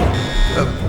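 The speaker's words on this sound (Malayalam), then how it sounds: "അയ്യോ ദൈവമേ, അലാറം അടിക്കുന്നു." An alarm blares in a film scene, a steady buzzing tone held throughout the brief moment, loud and close, with a voice faintly underneath.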